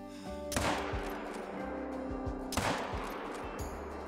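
Two loud, sharp rifle shots in the hunting game theHunter: Call of the Wild ring out about two seconds apart, each trailing into a rumbling echo, over a low steady hum.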